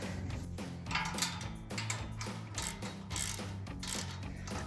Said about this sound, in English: And I'm gonna tighten everything up.